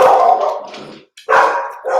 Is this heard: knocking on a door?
no